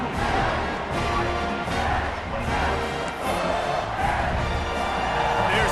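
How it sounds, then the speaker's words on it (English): Stadium crowd at a football game cheering and roaring before kickoff, a dense, loud, sustained wash of voices with swelling peaks throughout. "Set to kick it off, and this crowd now ready to get behind them."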